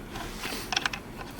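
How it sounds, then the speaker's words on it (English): A glass bottle cutter scores a rotating wine bottle, making a short burst of close, gritty ratcheting clicks in the middle of an otherwise quiet moment, with no talking. "now I'm going to rotate the bottle, applying pressure both downward and toward the back, and you can hear the scoring taking place"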